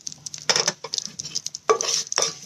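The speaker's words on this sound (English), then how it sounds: "these spices have started to crackle" Whole spices crackle in a hot pan, sharp popping bursts coming in short irregular clusters, close and fairly loud, with no voices.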